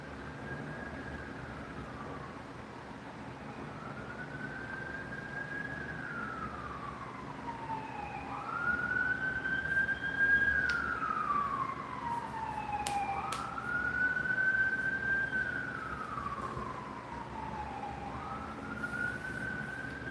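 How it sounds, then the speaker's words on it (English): A wailing ambulance or fire truck siren sweeps up and down in long slow cycles as it passes through the street, growing louder midway, with traffic rumbling beneath. "It had been a while that the ambulance hadn't passed by or the fire truck, but it's constant."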